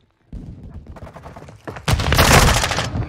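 Rapid bursts of automatic gunfire ring out in a Call of Duty match, starting with a choppy volley and then swelling into a louder, denser barrage of overlapping shots, close and intense.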